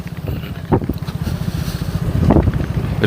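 Boats at the Sada Pathor ghat in Bholaganj, Sylhet, give a continuous rumbling drone with a pulsing low throb, mixed with gusty wind buffeting the microphone outdoors.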